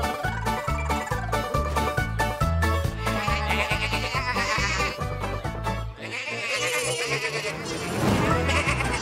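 Cartoon sheep bleat repeatedly over busy, rhythmic music, loud and close, with a few bleats overlapping.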